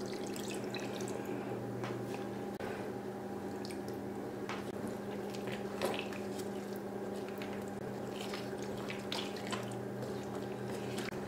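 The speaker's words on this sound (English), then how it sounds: "We're going to add some water." Water is added to drywall joint compound in a casserole dish, giving a faint, steady wet squish and trickle with small drips throughout.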